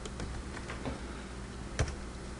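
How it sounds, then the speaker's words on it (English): Someone typing on a computer keyboard, with soft, quick, irregular key taps over quiet room noise and one slightly louder keystroke near the end. "I just have to type that in"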